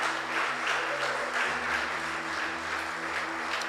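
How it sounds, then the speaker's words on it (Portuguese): An Easter church service congregation claps in praise, steady applause over sustained low organ or keyboard chords. "Pode aplaudir o Senhor."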